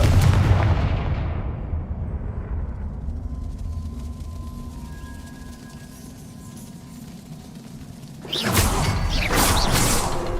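A fiery Confringo blasting spell is cast in Hogwarts Legacy. A sudden loud blast erupts near the end, following a low, rumbling magical ambience, with no voices.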